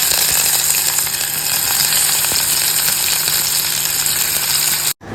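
Oil sizzles steadily in a hot pan for cooking, a loud, continuous crackling hiss with scattered pops that runs unbroken and stops abruptly near the end.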